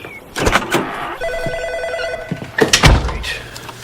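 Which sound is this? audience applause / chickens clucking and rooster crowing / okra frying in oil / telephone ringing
telephone ringing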